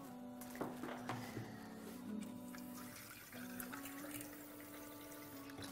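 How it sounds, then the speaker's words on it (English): Water pours steadily into a pot of yam pottage with smoked fish, a soft continuous splash with a rising, resonant gurgle as it fills. "I'm gonna add some water and then I'm blend this."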